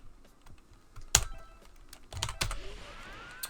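Typing on a computer keyboard, heard as scattered key clicks with a few sharper, louder presses, close to the mic with no voices over it.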